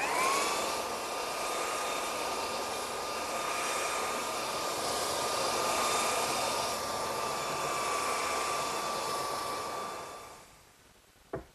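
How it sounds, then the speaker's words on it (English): A belt sander running across a wooden table top with a loud, steady whirring drone that holds for about ten seconds, then cuts off and winds down, followed by a single brief knock. "when you do belt sanding. You don't want to let the sander sit in one place"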